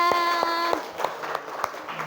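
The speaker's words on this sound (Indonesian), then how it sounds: "Tepuk tangan semuanya" A small group claps hands in a few sharp, separate claps spaced unevenly, with a sustained musical tone sounding over the first claps before fading.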